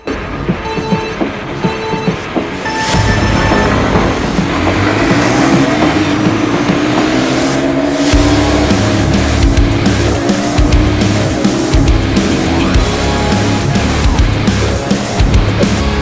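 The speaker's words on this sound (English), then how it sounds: "the first test for us is obviously a head-to-head drag race" Two scrambler motorcycles converted from Amazon-bought cafe bikes launch in a head-to-head drag race, engines roaring loud and continuous with surging revs after a brief quieter idle.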